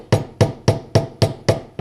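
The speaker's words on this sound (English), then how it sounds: "So we just have our little screwdriver here and a hammer." A hammer taps a small screwdriver to drive out the shock seal on a Honda 400EX ATV, six sharp metallic strikes in a steady, even rhythm, close and loud with no talk.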